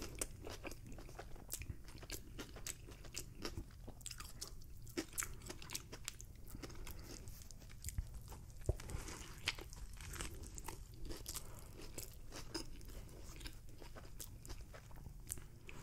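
Someone bites and chews a loaded double cheeseburger with pickles and a patty, making steady, close crunching and squishy chewing in a dense rhythm throughout, with no talking.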